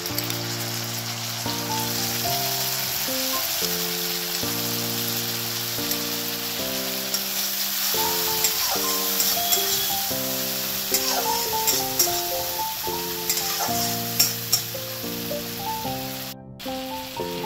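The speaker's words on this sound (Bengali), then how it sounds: "এবারে সর্ষে বাটাটা দিয়ে দেবো।" Mustard paste hits a hot pan for katla fish curry, raising a crackling, rain-like sizzle that continues steadily beneath background music.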